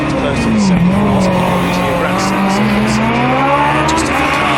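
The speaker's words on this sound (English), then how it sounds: "Just a phenomenal car, just banging and popping away there." A Formula Student race car at an endurance event, its engine note rising and falling loudly and close by, with crackling pops and a steady roar under a commentator's voice.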